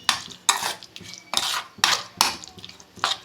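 A metal lid comes off a cooking pot of mashed banana-stem fritter batter in a home kitchen, with a series of bright clanks and clattering knocks of metal cookware, close and fairly loud, with no voices.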